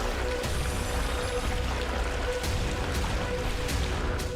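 The Mulbekh river, once part of the Silk Route, rushes through Kargil in Ladakh with a steady, close, continuous flow of churning water and no voices.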